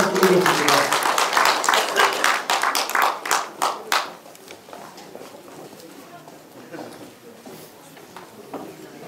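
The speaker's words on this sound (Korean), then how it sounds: "자, 큰 박수로 환영의 박수를 부탁드리겠습니다." Welcoming applause at an inauguration ceremony for a neighborhood committee chairman in Sejong. Loud, rapid clapping from a crowd lasts about four seconds and then fades out. Quieter background noise and a few scattered claps follow.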